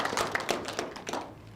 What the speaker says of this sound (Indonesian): Boleh tepuk tangan dulu untuk jawaban dari Pak Eko